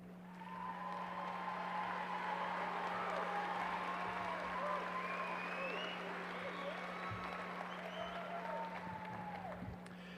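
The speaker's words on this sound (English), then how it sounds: "Would our honor graduates please stand and receive our applause?" Sustained applause from a large crowd as honor graduates stand at a 2019 Hutto high school graduation ceremony, a steady roomy wash of clapping lasting throughout over a constant low electrical hum.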